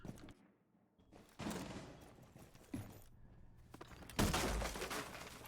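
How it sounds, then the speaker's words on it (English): Explosions and gunfire in a Rainbow Six Siege collegiate esports match: irregular bursts and crackling blasts cluster and fade, with a loud blast near the end. "Some explosions all around here"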